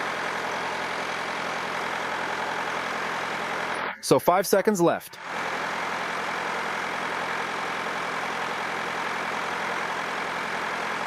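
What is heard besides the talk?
car engine idling during battery system test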